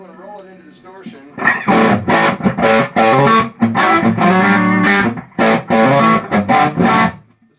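An electric guitar plays through a 65amps tube amp fitted with new tubes, pushed into distortion. Loud, saturated chords ring out in several bursts separated by short gaps.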